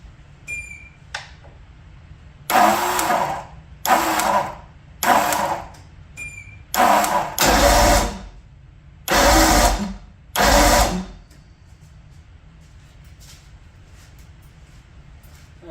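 A Johnson GT 200 outboard engine's electric starter cranks in six short bursts of a second or so each, loud whining spin-overs separated by pauses, with a sticky Bendix drive.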